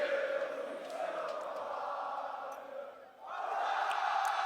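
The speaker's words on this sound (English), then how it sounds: "the French crowd, showing their support for Soaz and the rest of the team" A French esports crowd at a League of Legends group-stage match roars in support of Soaz's team, a broad sustained cheer from a large hall that dips briefly before swelling again, heard at a moderate distance.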